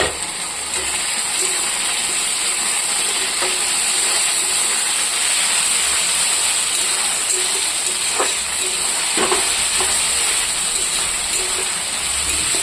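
Cumin paste, green chili and tomato fry together in a pan with a steady, loud hiss and sizzle that runs without a break, with faint crackles here and there and no voices.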